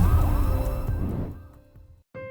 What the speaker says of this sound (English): They immediately called an ambulance and had Logan's cadaver taken to the hospita